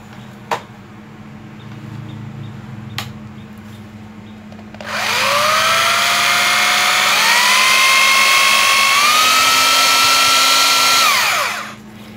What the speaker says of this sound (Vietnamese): Chế độ khoan thường và chế độ khoan búa nha